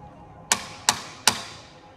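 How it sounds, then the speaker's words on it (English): Three sharp knocks on a surface in a haunted prison, evenly spaced about a third of a second apart, close and distinct against a quiet room. "I'm gonna do a knock."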